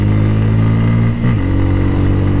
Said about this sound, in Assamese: মজা লাগে এক্সিলেশ্যন কৰি কেনে বাইকখন